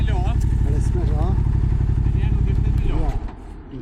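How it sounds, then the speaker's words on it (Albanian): Motorcycles on a long multi-country touring ride rumble steadily with a low engine drone that eases off near the end. Voices are heard over the engines. "Gjohen motorat aty"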